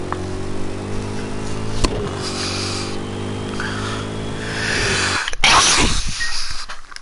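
A person sneezes once, close and loud, right after a steady racing-game engine drone from Project Cars 2 at Le Mans suddenly cuts off.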